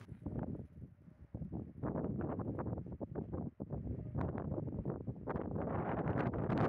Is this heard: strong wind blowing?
yes